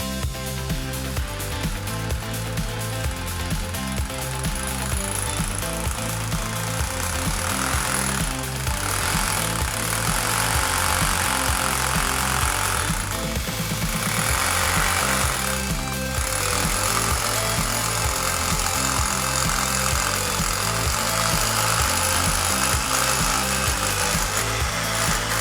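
A drill bores holes into a concrete ceiling with a loud, continuous hammering grind that runs nearly unbroken, close and harsh, with slight surges in intensity.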